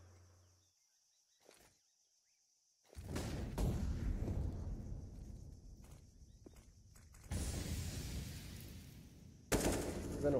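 Gunfire in a professional CS:GO match between MIBR and Cloud9 at IEM Rio 2023, quiet clicks and footsteps followed by bursts of loud rapid shooting, ending in a sudden sharp blast.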